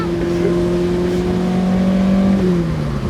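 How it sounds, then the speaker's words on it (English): A carbureted single overhead cam engine in a restomod Fiat X1/9 revs hard, a loud, throaty, sustained drone whose pitch rises and dips slightly over three seconds, close and dominant. "For a single overhead cam engine, it sounds brilliant."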